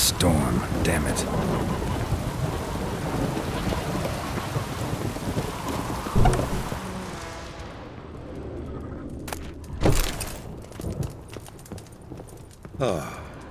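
Thunderstorm in The Witcher 3: heavy, steady rain hiss with deep rumbling thunder that swells and fades, plus sharp cracks of nearer thunder later on, with a voice briefly heard over the storm.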